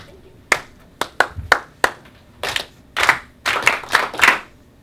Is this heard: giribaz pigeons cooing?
no